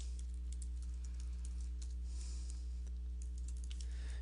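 Steady computer-keyboard typing as a URL is entered, a quick run of light key clicks over a constant low electrical hum, close and fairly quiet with no talking.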